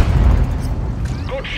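A tank cannon firing in World of Tanks, a single loud, deep boom that rolls off into a low rumble with faint debris-like noise trailing after it.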